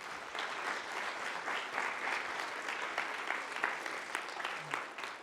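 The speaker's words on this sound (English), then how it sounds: "Now I want a big round of applause for Rithik," Lecture hall audience clapping for a production associate at the start of a university computing lecture, sustained even applause from a sizeable crowd, fairly distant and soft throughout.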